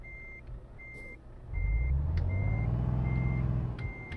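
Reversing beeps from a truck hauling a trailer in the Euro Truck Simulator 2 video game, a steady run of evenly spaced electronic tones, with the engine rumbling up loudly underneath partway through.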